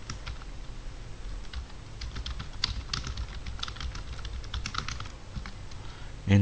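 Fast, steady typing on a computer keyboard sounds up close and alone, with a continuous patter of light clicking keystrokes and no speech.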